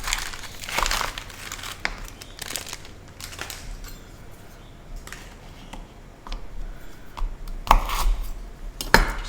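A packet of Oreos crinkles open, then a knife clicks and taps against a board while the cookies are cut in half, with louder sharp knocks near the end.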